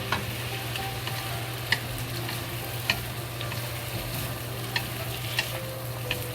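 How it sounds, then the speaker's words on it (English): Cut chilies with peppercorns fry in a pan, a steady close sizzle under a low stove hum, punctuated by a few sharp clicks of a spatula touching the pan. "The chili we add some cutted chili into it. And we fry."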